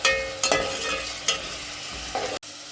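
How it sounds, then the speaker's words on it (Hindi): Ginger and garlic fry in a pan for a chana dal dish, a steady close sizzle with a few scraping stirs and spatula knocks, then a brief drop to near silence near the end. "मैंने अदरक लहसुन डाल दिया। इसको मैं 1 से 2 मिनट तक भूनूंगी।"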